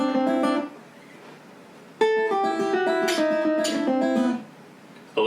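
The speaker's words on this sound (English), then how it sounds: "this is the Muleskinner lick" The Muleskinner lick in A on guitar, a run of ringing open-string notes with clear harmonics, played close and alone in two phrases with a short pause between.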